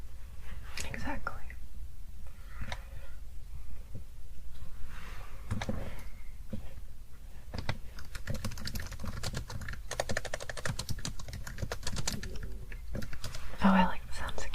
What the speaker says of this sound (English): Oh, I like the sounds of keyboard too.